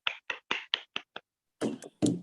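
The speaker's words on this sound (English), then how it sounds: "let me clap for him" A single person claps hands at a symposium award moment: six quick claps in an even burst, then a pause and a couple of louder, fuller hits with some room noise, close and alone without talk.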